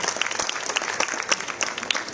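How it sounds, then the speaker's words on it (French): An audience claps at a Guadeloupe cycling tour presentation, with brisk individual hand claps standing out sharply from the crowd's brief, lively applause. "je vous invite à applaudir très très fort, s'il vous plaît,"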